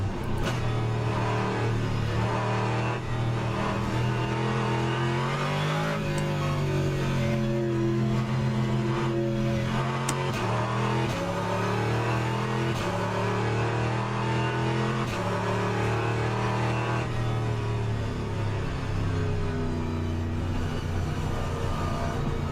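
Race car engines, including a Porsche, drone on a formation lap in the video game rFactor 2, a continuous close engine hum whose pitch rises and falls as the cars accelerate and ease off.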